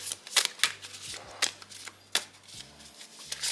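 Tarot cards are shuffled in a series of quick riffling bursts, close and crisp, repeating several times with short pauses between.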